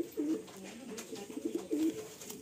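Pigeons cooing inside a loft of Madrasi and Giribaj breeds, several soft repeated coos and low throaty calls close by, with faint shuffling between them.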